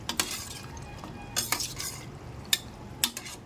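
Goat liver and spleen stir-fried in green masala, quiet with a low sizzle in the background and a handful of sharp spatula clinks and scrapes against the pan.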